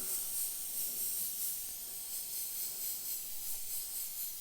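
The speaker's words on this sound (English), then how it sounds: "this airbrush is just going a bit single action, as you can see" A paint airbrush used for darkening skull eye sockets through a template gives a steady, soft close hiss of spraying air that holds without break and stays alone with no voices.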